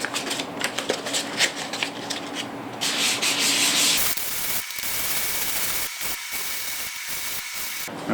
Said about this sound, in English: what I'm trying to do is sand the roughness smooth